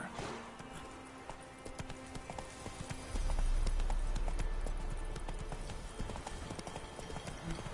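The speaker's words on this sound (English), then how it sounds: "Whoa there, Roach" Horse hooves clip-clop at an easy walking pace in The Witcher video game, a close, even rhythm of soft knocks that grows slightly louder and fuller midway.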